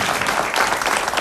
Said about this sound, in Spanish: Un aplauso para Wendy Zulka,